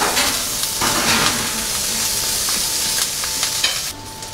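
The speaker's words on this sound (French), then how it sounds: "on va faire revenir nos oignons pour préparer la garniture" Onions sautéing in a pan make a loud continuous sizzle with stirring scrapes through it, easing off slightly near the end.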